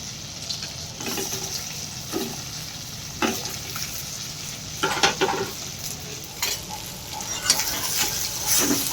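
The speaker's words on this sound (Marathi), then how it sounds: "आता आपण भरलेली वांगी आहे ती या तेलामध्ये परतून घेऊ" Stuffed brinjals fry in oil in a pan for a village-style curry, a constant close sizzle broken by periodic scraping and clinking stirs, with no talk over it.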